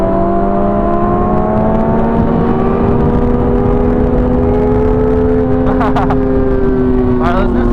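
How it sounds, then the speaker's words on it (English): A 2023 Suzuki GSX-R1000 sportbike engine winds up through second-gear pulls with a loud, steady rising drone, the pitch climbing across the whole stretch as speed builds, while rushing wind noise runs underneath. "we'll let her open up, do some second gear pulls, see what she's really about, really test out the quick shifter"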